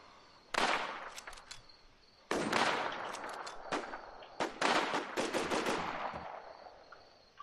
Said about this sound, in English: He shot at me instantly.